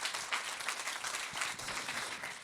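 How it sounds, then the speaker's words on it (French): Audience at a conference applauds a guest joining the stage, a steady wash of many clapping hands at moderate volume, continuous and unbroken. "Vous pouvez l'applaudir également."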